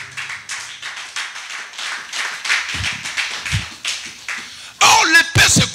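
Church congregation clapping and cheering, a scattered patter of hands mixed with voices that swells into a louder burst of cheering near the end.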